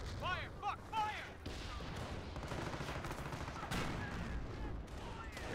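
Rapid gunfire and bursts of automatic weapons crackle through a World War II battle in the Company of Heroes strategy game, set in Normandy, with shouted voices over the shooting.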